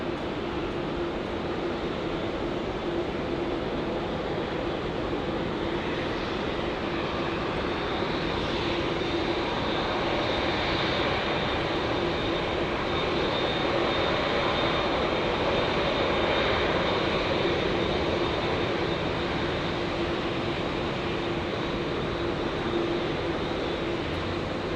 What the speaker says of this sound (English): Let's catch all the action of the Qantas 787-900